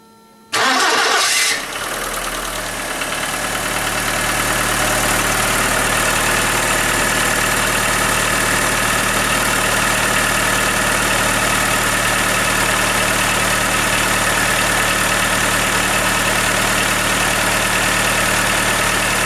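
Skoda Fabia 1.4 engine with a suspected piston knock cranking briefly, catching and settling into a steady, loud idle that continues close to the microphone for the rest of the clip, with no talking.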